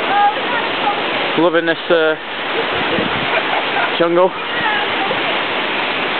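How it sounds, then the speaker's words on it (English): A jungle waterfall in Luang Prabang roars as a steady, loud wash of falling water throughout, while someone speaks briefly over it. "And there's the waterfall, it's beautiful."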